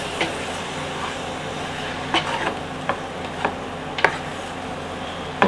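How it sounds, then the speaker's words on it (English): Plain flour stirred into beef stroganoff in a Dutch oven on an induction cooktop: a constant close sizzle with several sharp scrapes and knocks of the spoon against the pot. "And 2 tablespoons of plain flour. Pop that in. And give it a really good stir around."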